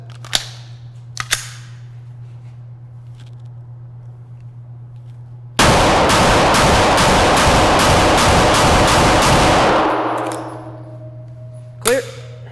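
A Smith & Wesson M&P 2.0 Metal series pistol fires a rapid string of about ten loud, sharp shots in quick succession, then falls back to a steady low hum with faint clicks.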